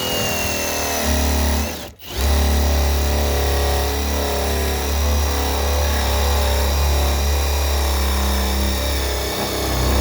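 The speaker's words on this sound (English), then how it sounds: "It's a very long drill bit, so I have to be very careful." A power drill runs continuously with a steady motorized whine, briefly stopping for a moment before resuming and grinding on at an even level.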